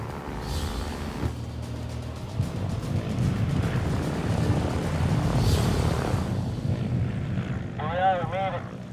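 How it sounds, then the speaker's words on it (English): Cessna 180 light plane flying with a broken rudder in Alaska, a steady propeller engine drone filling the scene, with a voice heard over it near the end. "the only way for Jim to fly and land his plane safely"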